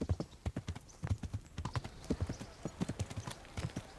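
Horse hooves gallop in first-person riding within the medieval video game Kingdom Come: Deliverance, a steady rapid clip-clop rhythm of close, loud hoof strikes over a soft background.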